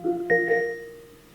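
An Amazon Echo reminder alert sounds as a short two-note chime, clear and close, ringing out briefly and fading.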